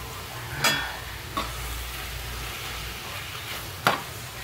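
Tomatoes frying in a pan with mula, saag and other vegetables in a home kitchen, a steady low sizzle broken by three sharp stirring clacks of a utensil against the pan.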